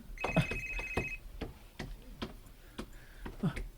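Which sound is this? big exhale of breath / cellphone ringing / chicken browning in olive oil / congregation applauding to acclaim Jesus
cellphone ringing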